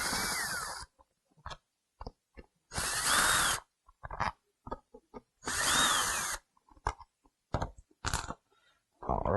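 Screws being backed out of an electrical panel on a 2000–2002 Chevy with a Phillips head screwdriver, heard as close, short bursts of whirring and grinding broken by silent pauses and small clicks and taps.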